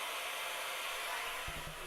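A vacuum cleaner runs in a house, a continuous airy whine and hiss at steady level, slightly distant, with a couple of faint low thumps near the end.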